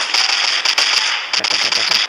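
Rapid bursts of crackling, popping blasts of howitzer artillery fire in a video game, in quick succession, loud and continuous with a few sharper peaks, no voices.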